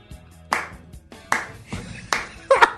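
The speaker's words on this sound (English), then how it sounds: "Just going to clap until you found the words" A single person claps slowly on a sports radio show, with four or five sharp, close hand claps spaced roughly a second apart over a quiet background.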